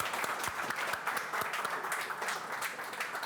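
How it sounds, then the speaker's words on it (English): Audience applause after a talk at a tech meetup, steady clapping from a modest crowd, fairly faint and continuous throughout. "please, more applause for Daniel"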